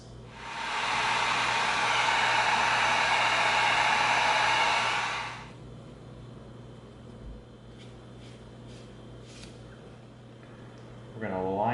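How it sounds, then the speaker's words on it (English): Heat gun blowing a loud, steady hiss for about five seconds while heat sealing EVA foam rivets on a dragonbone axe prop, then cutting out to quiet room tone. "let's go ahead and heat seal these rivets"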